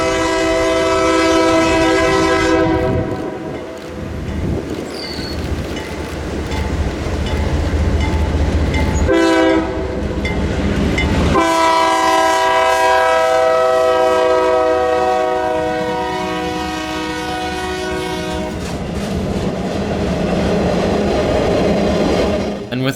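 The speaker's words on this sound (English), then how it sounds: "we made our way back to Wolf for the final train of the day, another T-Bird with 2 C40-8s" Freight train pulled by two C40-8 locomotives, including unit 2112 with a 15th anniversary scheme, passing close and loud with a long sounding horn, repeated horn blasts and rumbling wheels and cars throughout.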